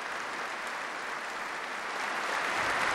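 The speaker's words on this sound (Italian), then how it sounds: "rispondono con un caloroso applauso" Warm applause from the faithful gathered at a papal prayer in Bucharest, a soft, steady wash of many hands clapping at a distance, swelling slightly toward the end, with no voices over it.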